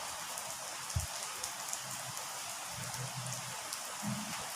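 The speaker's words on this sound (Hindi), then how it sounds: "बारिश होती जम के" Heavy rain falling outside a classroom, a soft continuous hiss of drops with a few dull low thumps, faint and steady with no talking.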